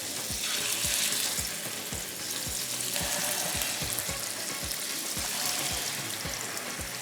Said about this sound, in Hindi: अभी जो थोड़े तैयार हो गए उनको फ्राई करना शुरू करते हैं